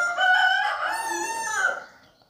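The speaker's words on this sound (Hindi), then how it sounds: "साथ साथ मेरी मुर्गियाँ भी देखते जाएँ" Chickens on a home poultry setup, a rooster giving one loud, close crow with a rising then drawn-out falling call that fades after about two seconds.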